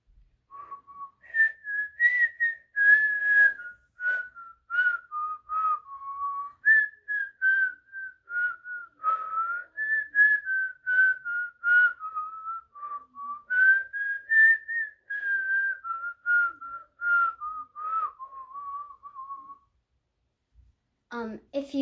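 A person whistles a melodic tune, clear and close, in steady continuous phrases without breaks for breath, ending with a brief noise.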